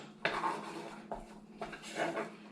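A roux being stirred in a pan, with a utensil scraping and clinking against the pan in two or three short rounds of strokes. The sound is close and moderately quiet, with no talk over it.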